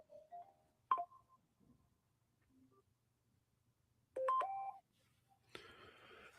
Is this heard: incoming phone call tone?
yes